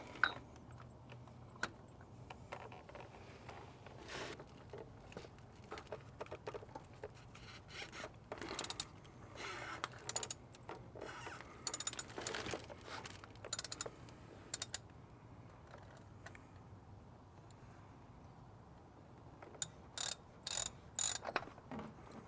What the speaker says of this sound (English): Now you can grab your oil wrench and we're going to remove the oil filter.